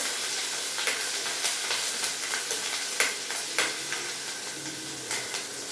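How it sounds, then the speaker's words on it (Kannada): Green chilies frying in hot tempering oil with curry leaves, a steady close sizzle broken by sharp crackles and spatter pops, with stirring clicks throughout and no talk. "ನಾನು ಮೆಣಸಿನ್ಕಾಯಿ ಹಾಕ್ತಾ ಇದ್ದೀನಿ, ಹಸಿಮೆಣಸಿನ್ಕಾಯಿ."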